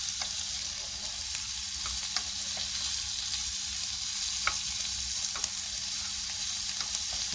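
Food fries in a pot in a van kitchen with a steady, bright sizzle, sprinkled with small pops and crackles, close and continuous with no talking.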